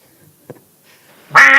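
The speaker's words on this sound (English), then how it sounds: "Toby shooting the naughty little zombie ducks quite effectively" Zombie ducks in a shooting video game let out a loud burst of quacking at the end, after quieter game noises and a short thud.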